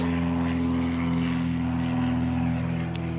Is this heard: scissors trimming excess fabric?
no